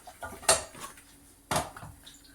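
A kadai pan set down on a stove top while making kuzhi paniyaram, heard as two sharp metallic clanks about a second apart, close and fairly loud, with faint rattling between them.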